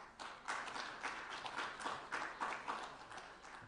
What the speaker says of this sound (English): he rightly deserves a big applaud